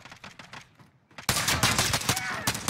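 Rapid bursts of gunfire in Call of Duty Modern Warfare start as sparse scattered shots, then erupt into a dense, loud, sustained automatic barrage.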